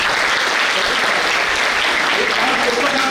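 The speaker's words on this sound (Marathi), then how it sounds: "सर्वप्रथम सगळ्यांनी टाळ्या वाजवून त्यांचे" Dense, steady applause from an audience at a school awards ceremony, a broad roar of many hands clapping close and loud throughout with no pauses.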